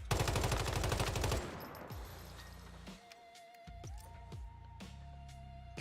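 Rapid close automatic gunfire from the video game Once Human, shooting at morphic crates, with a loud sustained burst at the start, then a few sharp single shots and pings as the firing thins out.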